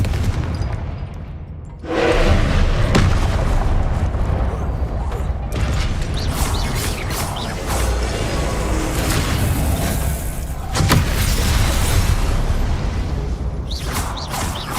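Fire spell explosions in the video game Hogwarts Legacy, a series of heavy booming blasts and crackling bursts over a dense, continuous rumbling game soundscape, loud and close.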